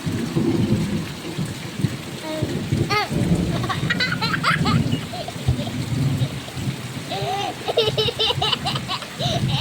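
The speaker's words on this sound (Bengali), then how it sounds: "সকাল থেকে বৃষ্টি শুরু হয়ে গেছে" Heavy rain pours in a dense, steady roar close by, with children's voices and laughter rising over it at moments.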